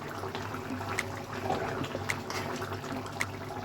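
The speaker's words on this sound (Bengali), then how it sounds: "ওপর থেকে আমি কাঁচা সর্ষের তেল ঢেলে দিলাম।" Raw mustard oil being poured over a Bengali hilsa and eggplant curry, a soft steady liquid trickle with a few light splashes and clinks, fairly quiet throughout.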